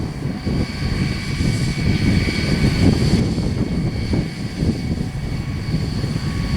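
A farm tractor's engine runs loud and steady close by, its rumble swelling and holding as the accelerator is pressed, with no voices over it.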